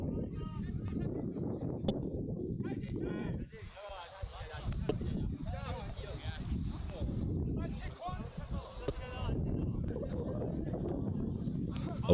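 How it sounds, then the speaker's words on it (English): Gusty wind buffets the microphone with low rumbling roar at an outdoor rugby match in Taipei, while someone commentator talks steadily over it. "A windy day here at Bailing Fields."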